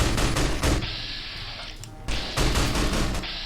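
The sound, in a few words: gunfire from manual shots in Fallout New Vegas video game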